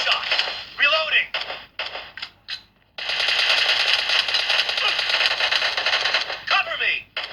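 Rapid gunfire bursts from the mobile battle-royale game PUBG Lite, loud and sustained with brief gaps, as game announcer voice lines play between bursts.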